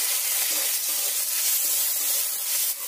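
Garlic paste sizzles with already-fried onions in a pan, a steady, close hiss of frying with faint stirring scrapes throughout and no voices.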